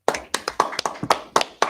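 A congregation at a Sabbath service clapping in an irregular rhythm, about a dozen sharp, close hand claps spread over under two seconds, with no talking.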